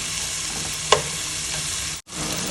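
Tomatoes sizzle in a hot pan for salmon sinigang, a steady close frying hiss with one brief clink near the start and a momentary break shortly before the end, with no talk.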